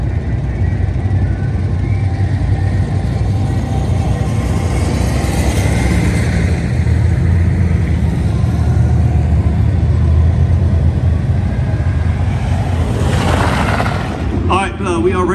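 Loud rumbling race car engines at Tulare ThunderBowl, a continuous close throaty drone that swells in the middle and ends with a rising rev and crackle.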